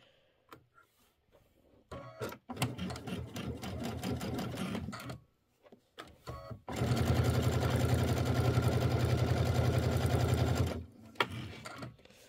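A home sewing machine runs a center straight stitch at 2.5 stitch length on a mini quilt: short stop-start bursts of whirring, then one long steady run of fast rhythmic stitching before it stops, close and clear.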